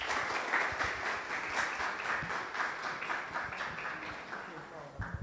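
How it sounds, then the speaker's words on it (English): Warm applause from the audience at a live business event in Dublin, a steady wash of many hands clapping at moderate distance, sustained evenly and tapering slightly toward the end. "And I'm going to ask you all to please help me with some warm applause for Paula Pacheco."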